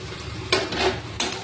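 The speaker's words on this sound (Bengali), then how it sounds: "এখানে দেখো পেঁয়াজটা লাল লাল করে একটু ভেজে নেবো" Onions fry in a pan with a steady sizzle underneath, while two bursts of spatula stirring scrape loudly across it, near and with no talking.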